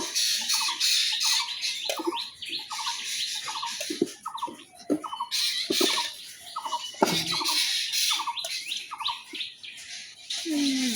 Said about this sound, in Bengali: এই যে জোড়া শালিক।